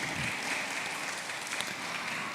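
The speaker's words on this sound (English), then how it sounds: "Please give a round of applause" Audience applause at an international seminar on fish and fisheries sciences: a steady, dense wash of clapping that holds at an even level for a couple of seconds.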